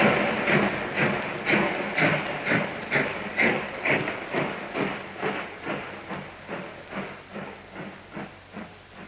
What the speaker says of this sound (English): in a moment this train moves out to an unknown destination